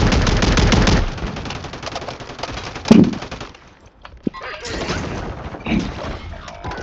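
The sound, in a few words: gunfire in the video game Warzone 3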